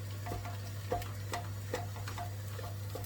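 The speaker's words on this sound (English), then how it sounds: "So we just keep stirring this," A spoon stirs tofu into a potato filling for aloo pies inside a pot, making soft rhythmic scrapes and taps roughly twice a second over a low steady hum, close and fairly quiet.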